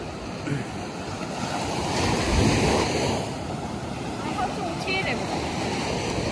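Ocean waves breaking on a beach at Vizag, a continuous rushing surf swelling louder in the middle, with wind buffeting the microphone and faint voices in the background.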